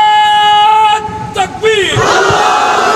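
At an open-air Islamic sermon gathering in Patiya, Bangladesh, a loud drawn-out call from one voice gives way to a large crowd roaring back in unison, close and powerful.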